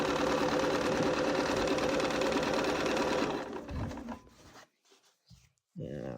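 A sewing machine stitches quilt pieces in a fast, steady mechanical whir that runs close and loud for about three seconds, then slows and stops. Brief handling noises and quiet gaps follow before the whir starts again.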